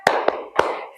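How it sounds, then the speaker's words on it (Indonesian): Three sharp hand claps from a group of students in a classroom, spaced unevenly within a second, loud and close, with a ringing room echo trailing each one. "Yuk, tepuk semangat."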